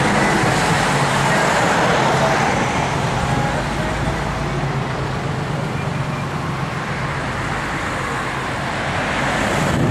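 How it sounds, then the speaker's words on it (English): A driverless shuttle bus stops by the railway station at Tonsley in Greater Adelaide. A loud, continuous rumble of engine and road noise is heard from inside, easing slightly near the end. "Bus stops by the railway station."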